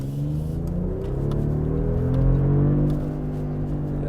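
From inside a 2025 Mercedes-Benz G550 in sport mode, the engine's deep, smooth drone rises steadily in pitch during acceleration, with faint tire and road rumble beneath.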